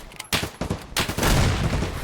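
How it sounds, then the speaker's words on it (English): A grenade blast in the video game Escape from Tarkov bursts loudly amid a rapid string of sharp gunfire cracks, followed by a sustained rumbling roar. "they just threw a grenade"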